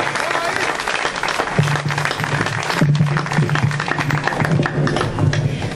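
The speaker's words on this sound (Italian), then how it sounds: "un applauso ad Elisa, grazie." Crowd at an outdoor political rally in Vernole applauding as a candidate comes up, dense clapping throughout with a voice and a low hum running under it.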